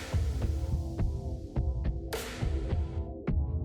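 A sewing machine stitching the hem of a cotton A-line midi skirt, giving a close, steady motor hum with evenly spaced rhythmic thumps and no voices.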